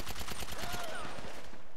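Rapid, dense gunfire from the PC version of the video game GTA Online, a loud continuous burst of shots with no pauses and no voices.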